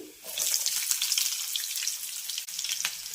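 Medium onion sliced into thin strips hitting hot oil in a pan for a restaurant-style snack, giving a loud, dense, crackling sizzle that holds steady for about three seconds with no talking.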